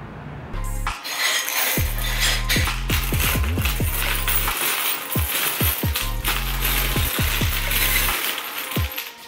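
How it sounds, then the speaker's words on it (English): A large pile of coins pours and clatters out in a long, bright metallic cascade, with repeated jingling bursts and pauses over a steady background din and no voices. "That is a stupid amount of coins."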